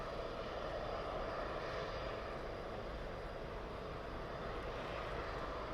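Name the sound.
Aer Lingus Emerald Airlines ATR 72 on final approach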